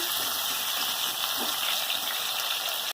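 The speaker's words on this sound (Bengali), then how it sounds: "আলুটাকে ভেজে নেব লাল লাল করে।" Potatoes frying in oil in a kadai give a steady, loud, close hissing sizzle that runs unbroken, with faint bubbling underneath and no voices.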